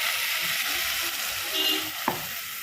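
Ground spice paste for pepper chicken gravy poured into hot oil, giving a steady loud sizzle and hiss throughout with a small splash near the end, no talk.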